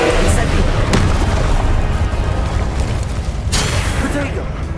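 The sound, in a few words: Incendio fire spell blast in Hogwarts Legacy video game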